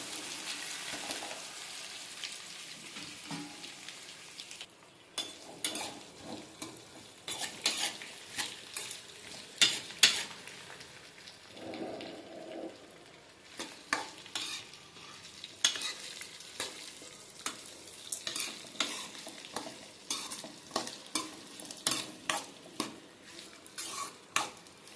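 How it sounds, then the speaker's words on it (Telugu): Chopped onions and okra pieces sizzle in hot tempering oil for a tamarind okra curry, with steady frying hiss and repeated scraping stirs of a spoon against the pan. "ఇప్పుడు మనం కట్ చేసి పెట్టుకున్న ఆనియన్స్ అండ్ బెండకాయ ముక్కలు అయితే వేస్తున్నాను."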